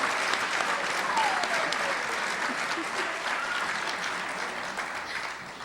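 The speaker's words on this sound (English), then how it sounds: "Let's give them all a round of applause." Sustained applause from an audience at a queer youth ally awards ceremony, dense steady clapping filling the whole stretch and tapering slightly toward the end, with faint voices mixed underneath.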